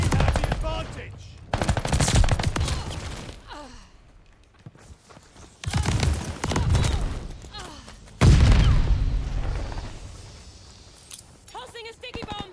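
Armaguerra 43 submachine gun firing in Call of Duty Vanguard, heard as loud bursts of rapid automatic fire separated by quieter gaps, mixed with in-game effects and announcer voices.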